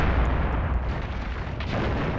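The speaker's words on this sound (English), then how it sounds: "My artillery is doing its thing as well, so I guess we're even." Artillery fire in the war game Graviteam Tactics Mius Front, a dull, rumbling wash of distant booms and bursts that stays loud throughout, with no voices.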